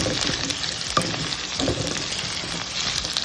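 Ivy gourd (kovakkai) and potato sauté in hot oil, giving a close, steady sizzle with small crackles and a few scraping stirs.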